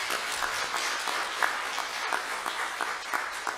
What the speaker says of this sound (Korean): 귀한 말씀 전해주신 목사님께는 감사의 박수를 우리 함께 드리겠습니다.